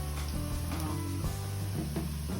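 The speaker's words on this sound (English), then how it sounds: "Turn the heat to low, and then you can let it sizzle for a little bit" Food sizzling in oil over low heat while making tofu, a steady close crackling sizzle with occasional clinks of utensils and a faint background hum, no voice.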